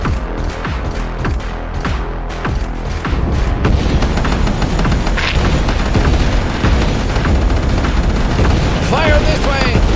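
Weapon fire in the underwater video game Ocean Keeper forms a loud, dense barrage of booms and blasts. The shots roll together with no break, and the barrage grows heavier partway through.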